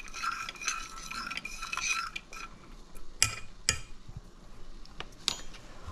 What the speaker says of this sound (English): Obviously, we're going to give this a stir.